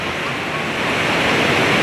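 Rushing mountain stream water at Ratti Gali in Azad Kashmir, a loud, steady broadband roar close to the microphone, continuous and slightly building, with some wind noise mixed in.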